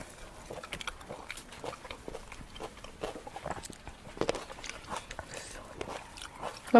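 Grilled squid being chewed close up, with soft irregular bites and wet mouth sounds repeating over several seconds, faint and intimate, with no talk over it.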